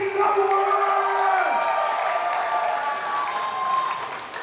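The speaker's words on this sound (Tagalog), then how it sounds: "Palakpak na may kasamang singawan." Applause mixed with cheering from a church congregation during a sermon, a broad crowd roar with a sustained tonal shout that fades after a second and a half, then continued clapping and voices tapering slightly toward the end.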